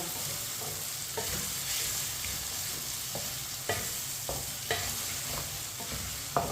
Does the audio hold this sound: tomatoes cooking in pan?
yes